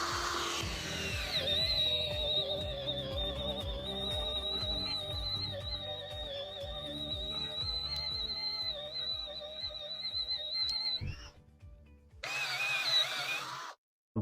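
A Philco Force PPF03 cordless drill bores on its low mechanical speed with a steady, loud whining motor note that holds for about ten seconds, stops briefly, then resumes in a short final burst.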